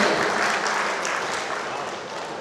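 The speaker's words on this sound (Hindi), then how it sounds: "तालियों से आप इनका अभिनंदन करें" Audience applause welcoming a speaker at an honours ceremony, a dense steady clapping from a crowd that slowly fades slightly.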